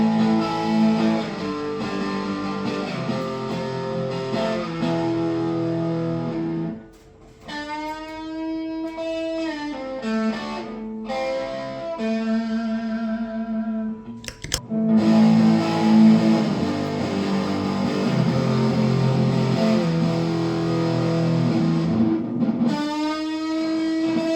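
Electric guitar played through a Tube Screamer and then a Rat pedal at full distortion, giving sustained, fuzzy, heavily clipped chords with a short pause and a brief click midway, loud throughout.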